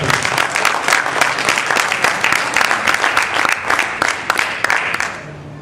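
Church congregation applauding during a sermon on praise, loud, dense clapping with crisp individual claps that keeps up steadily and then fades away at the end.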